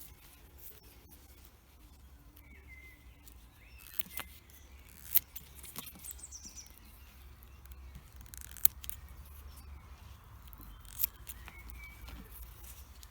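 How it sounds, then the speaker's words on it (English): Quiet, sparse snips of scissors trimming willow cord ends where they emerge from a willow rope, a few sharp clicks spaced irregularly over faint background hiss and small handling noises. "I just need a pair of scissors for those, so I'm just going to cut them fairly short"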